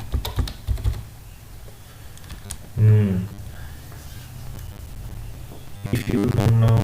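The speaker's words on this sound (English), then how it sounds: "I am typing my password." Rapid clicking of keys as a password is typed on a computer keyboard, uneven bursts of taps close by, with a couple of louder thumps and a faint voice in the background.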